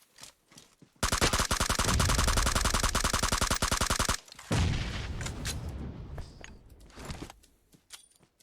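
M249 machine gun fire in the shooter game PUBG Mobile, a loud sustained rapid burst of about three seconds, followed by scattered fainter shots and impacts.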